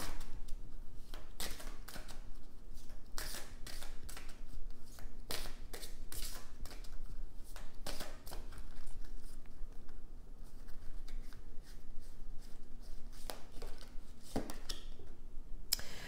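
Tarot cards shuffled and drawn during a love-themed reading, with a steady soft riffling patter broken by repeated sharp slaps and snaps as cards are cut and laid down, close up with no talking.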